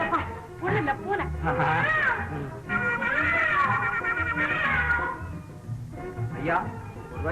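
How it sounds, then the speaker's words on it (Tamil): A cat meows in a drawn-out, wailing series of cries, rising and falling in pitch, with brief pauses between calls and some background noise underneath. "பூனை."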